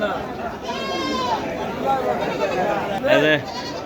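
Local goats bleat repeatedly amid a busy crowd murmur at the Taherpur goat market, several calls rising over the steady background chatter.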